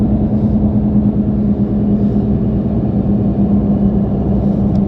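Steady, loud engine drone and road rumble inside a car cruising on a highway, an even, continuous sound with no talk.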